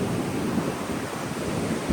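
Sea waves surge and wash ashore as a low-pressure storm pushes seawater into coastal homes, a steady, loud roar of churning surf mixed with gusty wind buffeting the microphone, with no talking.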